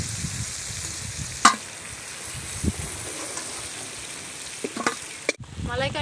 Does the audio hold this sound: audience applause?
no